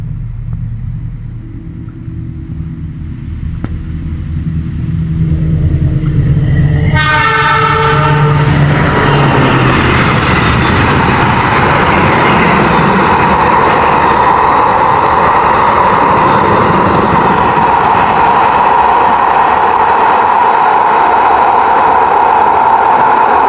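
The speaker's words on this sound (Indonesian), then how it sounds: "Oke, sudah mulai mendekat. Inilah dia kereta api Taksaka Nyujen" The Taksaka passenger train from Yogyakarta to Gambir rumbles closer, sounds its horn, then passes loudly with a continuous heavy roar of wheels and cars rolling by at close range.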